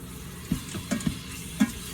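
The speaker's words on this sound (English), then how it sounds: "It's melting the butter" Butter melts and sizzles in an Instant Pot, a crackling hiss with several soft utensil clicks and scrapes spaced across the moment.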